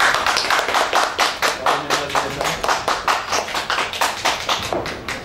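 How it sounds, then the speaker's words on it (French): Audience at the Miss Amiens 2019 pageant clapping for the candidates, a rhythmic run of close, loud handclaps in a steady beat, with brief voices underneath. "Vous pouvez les applaudir bien fort."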